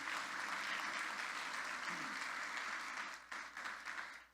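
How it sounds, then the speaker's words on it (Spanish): A church congregation applauds together in a sustained, even wash of clapping that thins out near the end, heard from a distance at a fairly low level. "Dale un aplauso al Señor por ser el creador"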